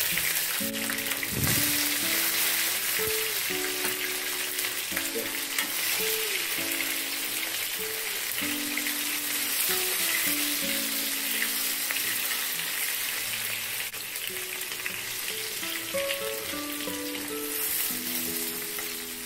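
Onion, tomato, pineapple and bamboo shoots sauté in oil in a pot for a hot-pot broth, giving a loud, continuous sizzle and crackle with occasional stirring clinks, heard alone.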